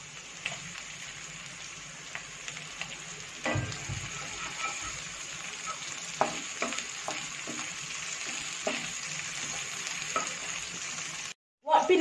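Ginger and green chillies fry in a pan for chilli chicken, a continuous sizzling hiss broken by scraping stirs and soft clacks of the spoon, ending with a brief silence and a final clatter.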